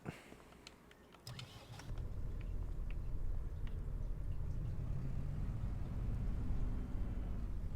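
A truck engine in Farming Simulator 25 rumbles to life after a few clicks and then runs steadily at a low, constant idle-like drone for the rest of the clip.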